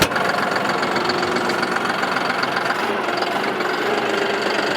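Large tractor engine running steadily as it is driven, a loud continuous close rumble with knocking vibration that holds an even level throughout, with no talk over it.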